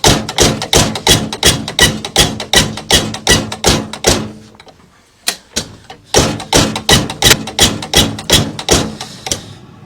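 A 1978 International TD8E dozer's diesel injector nozzle chatters on a tester: rapid, rhythmic mechanical bursts, loud and close, pausing briefly with a few scattered pops before the steady chatter resumes.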